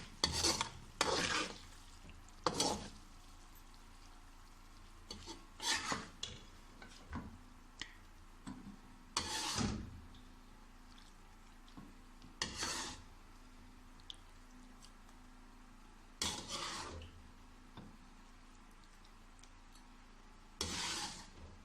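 Karahi gosht is spooned from a pan onto a plate, with sporadic scraping and wet squishing clinks of the utensil in short bursts separated by quiet gaps.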